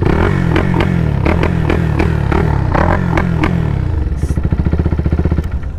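Fan 205cc motorcycle engine running loud and close, with sharp rhythmic revving bursts and clattering mechanical bangs that settle into a steady throbbing idle toward the end.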